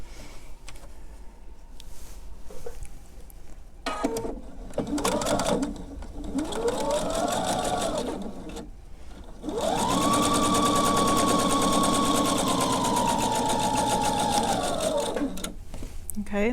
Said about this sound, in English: I'm going to sew from corner to corner with a 1/4 inch